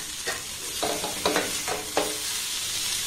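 Vegetables and chopped tomato stirred in a frying pan on a gas stove: a steady sizzle with several scraping, clattering spoon strokes against the pan, close and alone.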